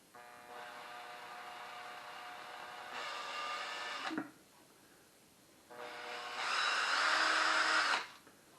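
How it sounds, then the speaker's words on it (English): An electric drill whirs in two separate bursts, drilling holes in the bottom of a brewery beer outlet float, the second louder and higher-pitched, with a quiet pause between them. "I'm going to drill them at the bottom of the boat"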